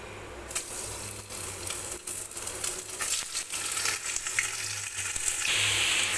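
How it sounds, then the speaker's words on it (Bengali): Small bite-sized chicken pieces for chilli chicken frying in hot oil in a wok, a close, continuous crackling sizzle broken by occasional stirring scrapes, with no talking. "আমি চিকেনগুলো এবার ভেজে নেব।"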